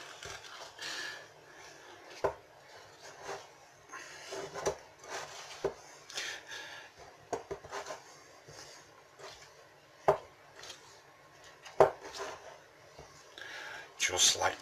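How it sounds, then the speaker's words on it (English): Thick cookie dough with oats, raisins and white and dark chocolate chips being folded and mixed by hand in a bowl, giving irregular soft thuds and scrapes close by, mixed with a speaking voice. "Mix it all together, keep folding it and mixing, folding"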